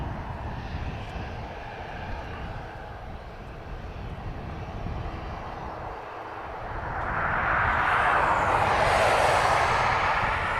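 A large airliner takes off from Dublin Airport, its jet engine roar building from a steady distant rumble into a loud, close broadband surge during the takeoff run.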